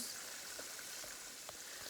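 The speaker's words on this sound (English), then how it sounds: "so I'm frying my fish and I'm doing a hard fry" Fish hard-frying in hot oil for Jamaican escoveitch, a steady, fairly quiet sizzle and crackle with faint pops scattered through, no voices.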